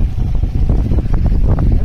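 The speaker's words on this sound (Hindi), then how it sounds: "जिस तरह वहाँ पे भी हवा चलती है, लहर आती है, सेम सेम टू सेम वही है" Strong wind gusts and rolling waves at Juhu beach, a steady loud roar of blowing air and surf with buffeting on the microphone and no voices.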